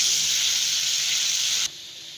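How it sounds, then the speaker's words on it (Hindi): Ginger garlic paste sizzles steadily in hot oil while being fried for kofta curry, a loud continuous broad hiss that drops abruptly to a quieter sizzle near the end. "अब हम इसे भून लेंगे।"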